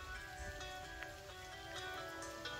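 Light rain falling in Dadyal, Azad Kashmir, a soft steady patter of drops on outdoor surfaces, faint and continuous with no voices.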